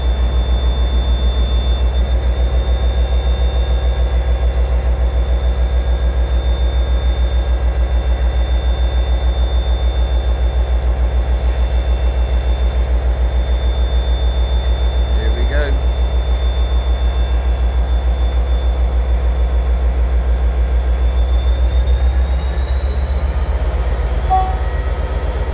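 Diesel train pulling out of Taunton on an early-morning service to Penzance, a steady loud low engine rumble with a sustained high whine and faint wheel squeal, continuous throughout with some speech underneath.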